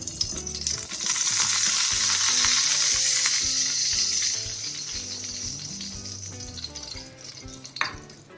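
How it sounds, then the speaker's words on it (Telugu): Raw prawns sizzle in hot oil in a pan while being stirred for a Telugu prawn curry with ridge gourd, a loud steady frying hiss that eases after a few seconds, with a brief utensil clink near the end. "ఈ పచ్చిరీలు వేయించేసుకుందాం ఇలాగా"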